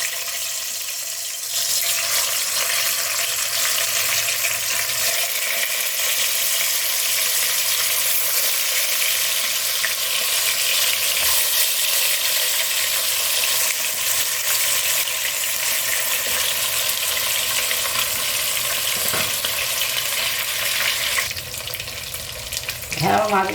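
Barramundi and catla fish pieces frying in hot oil give a loud, steady sizzling hiss that starts after a short quiet moment and runs unbroken for about twenty seconds, with a brief clatter near the end.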